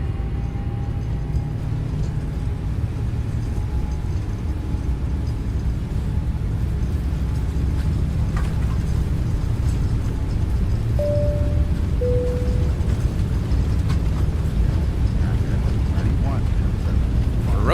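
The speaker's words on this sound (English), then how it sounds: "Listen to those engine sounds." Boeing 777 jet engines spooling up to takeoff thrust during the takeoff roll in the X-Plane 12 flight simulator, a steady loud low roar with rumble throughout, a few faint tones and clicks above it.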